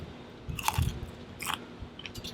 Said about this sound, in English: want you to hear this bacon.